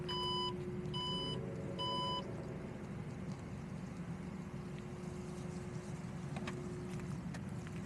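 Three short, loud electronic beeps sound in steady succession as the trunk of a 2024 Alfa Romeo Stelvio Ti closes, followed by quiet outdoor background noise.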